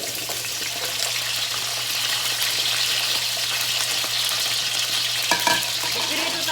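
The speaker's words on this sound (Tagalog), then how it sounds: "We're gonna fry the potato." Potatoes fry steadily in about a quarter cup of oil, a dense, continuous sizzle with faint stirring and a brief clatter near the end, no voices.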